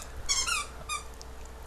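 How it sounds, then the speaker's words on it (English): A dog plays with a squeaky toy, producing two quick bursts of high, wavering squeaks followed by a sharp thump at the end. "I have to take the squeaky toys away from my dog every time I stream."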